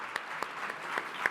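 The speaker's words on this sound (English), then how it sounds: "Everyone applauded." An audience applauds after an onstage conversation, a soft, distant patter of many hands with a few sharper claps standing out, steady for the whole moment.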